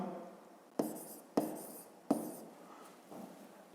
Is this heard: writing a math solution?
yes